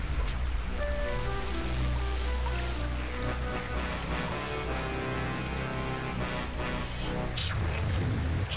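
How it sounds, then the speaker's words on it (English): Continuous water ambience in an Unreal Engine 4.20 game prototype: a dense, steady wash of lapping, flowing water with broad low rumble, loud and unbroken throughout, with faint tonal layers beneath. "So I got some of the noises in here, the audio. I got a little bit of the water."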